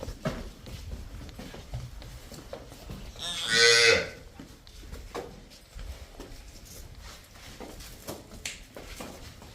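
A single loud, drawn-out moo from a nearby dairy cow rises over a quiet farmyard background with faint shuffling and distant voices.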